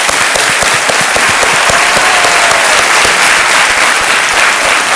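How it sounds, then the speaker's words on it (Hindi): Loud, continuous studio audience applause welcoming a contestant to the hot seat on the Hindi quiz show Kaun Banega Crorepati, a dense wall of clapping throughout with crowd murmur beneath. "एक बार फिर तालियों के साथ इनका स्वागत"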